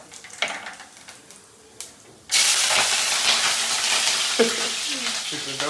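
Onions and green chilies hit hot oil with a sudden loud burst of sizzling that then carries on as a steady frying hiss, with a few soft knocks and a voice heard briefly before and near the end.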